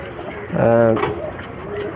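Healthy breeding-stock pigeons in a breeding cage give one clear, close coo midway, framed by softer rustling and low background sounds.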